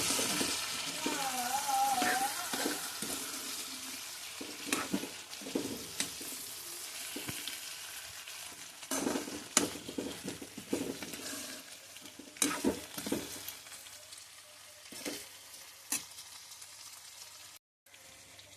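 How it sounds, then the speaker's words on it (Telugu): Tomatoes being stirred in a pan for a drumstick and tomato curry, with a steady sizzle of frying under repeated spoon scrapes and clinks, fairly close, with a brief silence near the end. "ఈ టైంలో మనం టమాటాలను యాడ్ చేసుకుందాము. వీటిని కూడా బాగా కలుపుకోవాలి."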